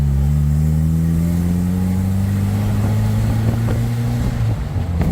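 A 1995 Jeep Wrangler S pulls away in second gear, its engine droning loudly and steadily, pitch climbing slowly under strong wind buffeting the microphone.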